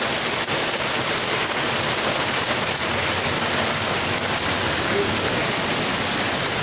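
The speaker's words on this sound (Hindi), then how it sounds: "लाहौर में बहुत तेज़ बारिश हो रही है।" Heavy rain pouring steadily in Lahore, a dense, loud, unbroken wash of falling water with no pauses, close and filling the whole scene.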